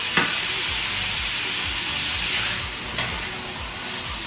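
Chicken lo mein ingredients sizzle steadily in hot oil in a pan, with a continuous frying hiss and occasional soft stirring scrapes and clinks, close up with no talking.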